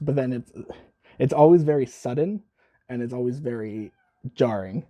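A domestic cat meows a few times close by indoors, its cries mixed in with a person talking.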